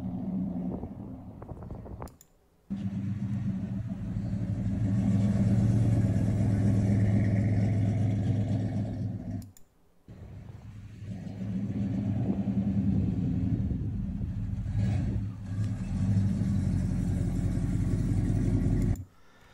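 A 1986 GMC Caballero with a 5.8-liter V8 engine rumbles at idle close by, a deep steady drone broken by two short gaps.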